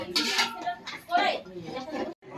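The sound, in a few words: covering a cooking pot with its lid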